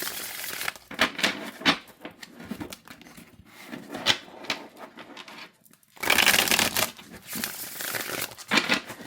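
A Blood Moon Tarot card deck with a glossy finish being shuffled, with crisp riffling and flapping bursts that come in uneven waves, close and fairly quiet, separated by brief pauses.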